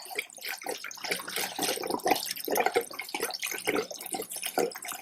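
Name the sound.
gasoline being poured through a Mr Funnel fuel filter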